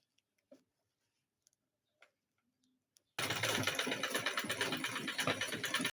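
A sewing machine runs steadily, stitching fabric for a wrapper outfit. It starts after about three seconds of near silence broken by a few soft clicks, then keeps a loud, fast, even mechanical rattle until it stops.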